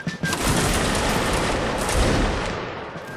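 Musket volley in a Napoleonic Wars battle game: a dense, continuous crackle of many shots fired together, loud and sustained for about three seconds, fading slightly at the end, with no talking.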